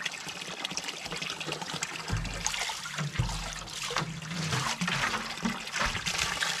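Water flowing steadily while being fetched for drinking at home, a continuous gushing trickle close by with occasional splashy surges, no talk over it.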